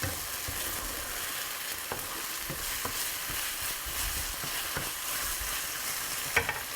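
Tomato paste being stirred into a chicken curry in a pan on an Indian home-cooking show, a steady close sizzle of frying with scraping and stirring strokes running throughout.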